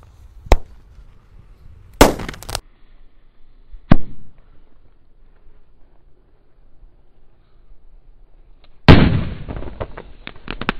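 Several sharp firecracker bangs spaced seconds apart, then a bigger roman candle burst with a crackling, sizzling tail, loud against near silence.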